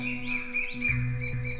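A nightingale sings in an animated fairy tale cartoon, bright chirping phrases over a sustained musical backing, clear and continuous with no talking.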